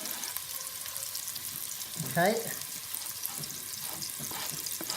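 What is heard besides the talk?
onions sizzling in hot oil for butter chicken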